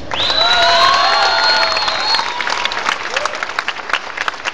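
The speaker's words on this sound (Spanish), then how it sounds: "Yo quiero brindarle un fuerte aplauso a nuestro amigo y hermano Greg Sánchez" A crowd at an outdoor Christmas posada in Cancún bursts into loud applause mixed with cheering and shouts, sustained and near, tapering into scattered clapping toward the end.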